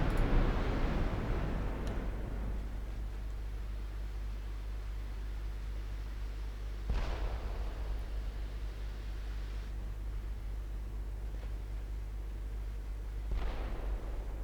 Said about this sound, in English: 10-inch guns from the heavy cruisers